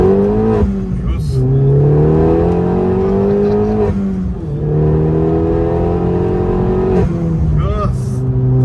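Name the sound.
Opel Corsa OPC accelerating through gears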